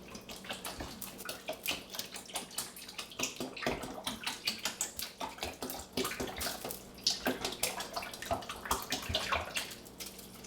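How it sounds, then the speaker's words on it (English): Thick tomato juice poured from a jug into a soup pot for gluten-free hamburger soup, a steady glugging, splashing pour with uneven surges that runs the whole time, close and moderately loud with no talking. "So we're going to take this whole jug of tomato juice and put it in here."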